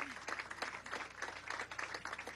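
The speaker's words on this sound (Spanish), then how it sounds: "un aplauso a Oriana Victoria Valentina." Applause breaks out for a young girl at a ceremony handing over social mission cards in Venezuela, a steady burst of clapping from a gathered crowd lasting a couple of seconds.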